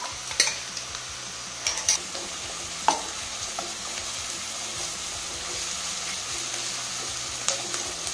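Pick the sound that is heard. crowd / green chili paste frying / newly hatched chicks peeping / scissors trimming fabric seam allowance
green chili paste frying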